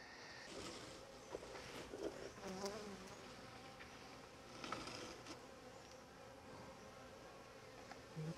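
Honey bees buzz steadily around mini nucs for raising queens, a faint, continuous outdoor hum with individual bees droning past close by now and then.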